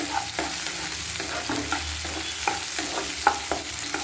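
Onions for vegetable rava kichadi sizzle and fry half-cooked in a hot pan while a utensil stirs them in repeated scraping strokes, loud and close.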